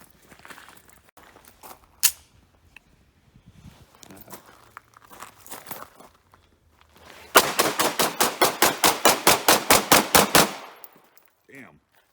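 A Hungarian FEG P9M 9mm pistol, a Browning Hi-Power copy, fires a rapid string of about fifteen loud, sharp shots at an outdoor range, preceded by quieter handling, rustling and footsteps.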